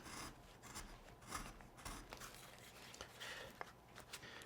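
A V-tool pushed by hand carves into a wooden bear figure, giving a soft, continuous scraping and rasping of steel cutting wood, close and fairly quiet, with uneven strokes and no talking.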